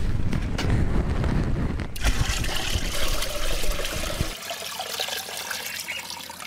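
About five litres of water gush into a cow urine mixture being prepared for a farm preparation, a loud, close, steady pour that cuts off abruptly, leaving a faint trickle.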